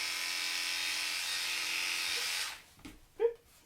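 Electric clippers trimming a large dog's fur around the tail and underside buzz steadily at close range, then cut off, followed by a few faint handling noises.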